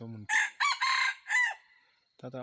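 A jungle fowl rooster crows close by in a full, drawn-out call of several rising and falling segments, followed after a pause by the start of another crow.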